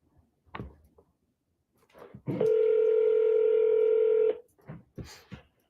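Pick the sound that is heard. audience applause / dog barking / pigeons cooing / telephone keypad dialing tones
telephone keypad dialing tones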